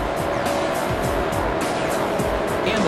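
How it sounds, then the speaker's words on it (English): Race car engines roar at Darlington Raceway in the NASCAR Thunder 2003 video game, a loud continuous droning field of engines with repeated pulsing swells, no talk over it. "The engines have fired here at Darlington Raceway, and 43 drivers are now at the ready."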